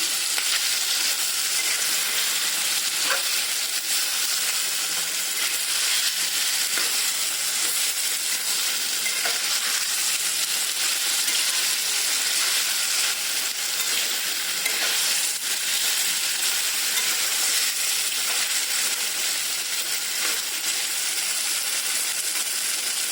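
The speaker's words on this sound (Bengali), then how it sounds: "আর একটু সময় নাড়াচাড়া করে দিন।" Rohu fish curry with zucchini and drumstick fries in a pan while it is stirred. A steady, even sizzle hisses throughout, with faint scrapes of the stirring utensil and no voices.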